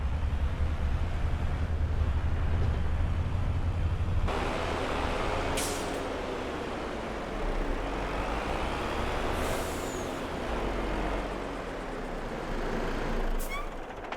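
Air brakes hiss from a truck pulling over to park at a roadside in a farming video game, with steady engine rumble beneath and brief bright hiss bursts scattered across the scene.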